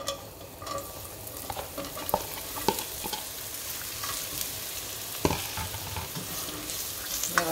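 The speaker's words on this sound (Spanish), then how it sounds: "vas a ponerlos a sofreír en el sartén con aceite bien caliente" Tortillas fry in very hot oil in a pan with a continuous loud sizzle and crackle. Occasional scraping and stirring clatters cut through, heard up close with no talking.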